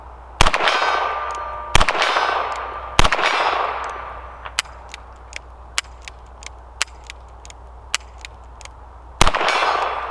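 A stainless Ruger GP100 .22LR revolver with a 5.5-inch barrel fires at a steel target, each shot answered by a sharp metallic clang; about a dozen spaced hits, some louder and ringing, others quick light pings.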